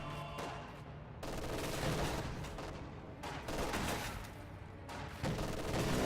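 A video game battle with grenadiers firing on conscripts in a church, dense rattling gunfire in sustained bursts broken by brief lulls, loud and close with overlapping shots and no talk.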